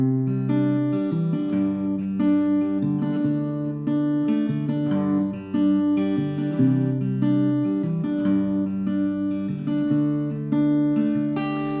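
An acoustic guitar plays a fingerpicked chord pattern from a song, plucked notes ringing out in a steady repeating rhythm, close and clear with no talking.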